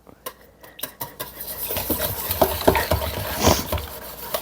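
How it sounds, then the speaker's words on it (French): Crêpe batter with vanilla essence is stirred in a bowl, a spoon or whisk clinking and scraping against the sides in irregular close taps that build to a steady busy mixing. "Et maintenant, je vais mélanger."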